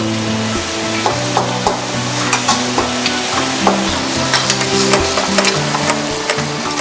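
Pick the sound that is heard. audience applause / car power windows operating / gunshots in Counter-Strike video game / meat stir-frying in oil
meat stir-frying in oil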